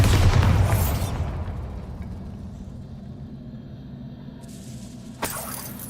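A loud Bombarda spell explosion in the video game Hogwarts Legacy bursts at the start and decays into a long low rumble, followed by a second, sharper crack near the end.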